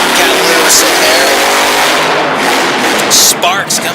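A monster truck engine roars loud and continuously during a freestyle run at a Harrisburg, Pennsylvania event. It revs hard throughout as an announcer talks excitedly over it.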